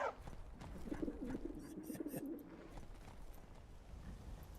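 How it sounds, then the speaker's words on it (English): Pigeons in a video game coo in loud, repeated throaty bursts through the first half, then fade to a softer murmur over steady background ambience. "Very loud pigeons. But that's what they sound like."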